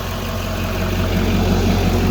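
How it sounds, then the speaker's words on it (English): Engine of a 2011 Chevrolet G4500 passenger bus idling, a loud, even low rumble close by without speech. "You can see in here that it is just sitting here idling along just like it's supposed to."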